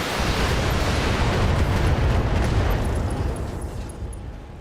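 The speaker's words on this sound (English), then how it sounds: "Firing everything I've got." Mech weapons firing and explosions in the Battletech video game, a loud continuous roar of blasts and gunfire that holds steady then slowly fades, no talk.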